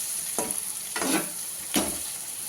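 Bitter gourd and onion curry with masala stirred in a hot pan, three distinct scraping strokes over a soft continuous sizzle, close and alone.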